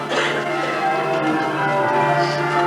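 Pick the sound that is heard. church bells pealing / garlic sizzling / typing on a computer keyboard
church bells pealing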